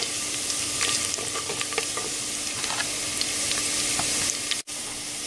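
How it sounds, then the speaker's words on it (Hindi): Finely chopped garlic sizzling in hot oil in a pan, a steady close frying hiss with occasional stirring scrapes, loud and continuous without talk. "लहसुन को सौते करेंगे।"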